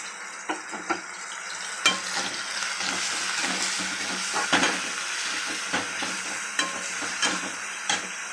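Garlic and coriander paste fries in a pan with a soft, steady sizzle, broken by frequent scraping taps as it is stirred; no one speaks.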